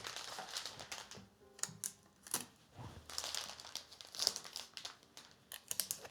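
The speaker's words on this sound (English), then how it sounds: "And then let's tape it on the other side for good measure." Adhesive tape crackles and tears off a dispenser while a rose bouquet is wrapped, with crinkling paper or cellophane and sharp ripping bursts close by.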